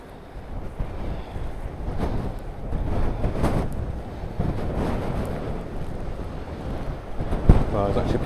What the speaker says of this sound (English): you can feel the difference in the wind as soon as you get up here